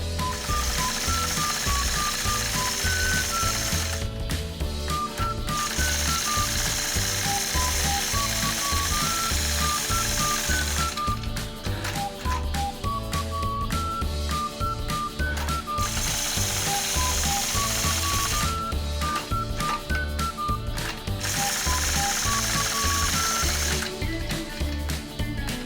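Sewing machine quilting stitches across a quilt block, a steady, rapid mechanical chatter that runs continuously and loudly, with melodic background music playing underneath.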